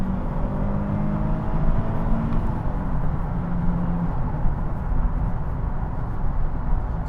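Nissan 370Z accelerating on a country road, a steady smooth engine drone with rising tones under broadband road and wind noise, continuous and close without any talk.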